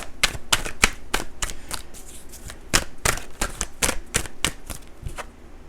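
A deck of cards being shuffled: a rapid run of crisp riffling flicks and snaps, close and fairly loud, with short pauses between bursts and no talk.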